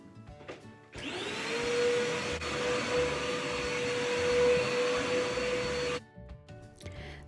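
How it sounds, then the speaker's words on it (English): A vacuum cleaner running on a floor at home, switching on with a rising whine into a steady loud roar for about five seconds, then cutting off abruptly. "So I'm just vacuuming"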